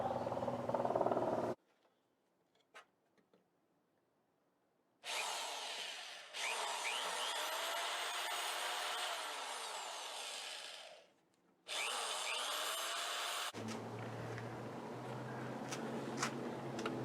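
A power drill drives screws into wooden corner triangles glued into the body of a 1925 Ford Model T during top and interior work, with two long loud whirring bursts separated by silence and a few light knocks.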